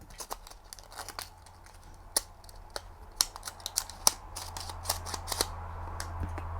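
Scissors cutting photographic film while loading a Paterson developing tank, with sharp close snips and crinkling handling clicks in an irregular series against a quiet background.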